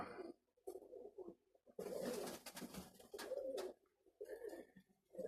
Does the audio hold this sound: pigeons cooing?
yes